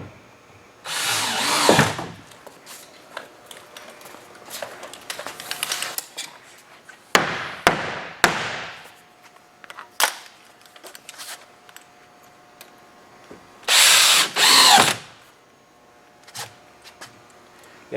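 A power drill drives screws into a back wall in several short whirring bursts with quiet pauses and scattered taps and clicks between them.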